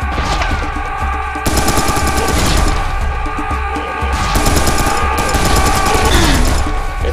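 Loud, rapid automatic gunfire from Serious Sam 3 BFE co-op combat, sustained bursts of rattling shots with short pauses and heavy impacts, dense and continuous across the whole stretch.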